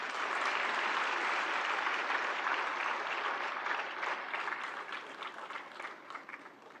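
Audience applause at a Civil Accounts Day ceremony in New Delhi, seeing off the Finance Minister as chief guest; steady dense clapping from a large hall crowd, full and sustained, thinning slightly toward the end.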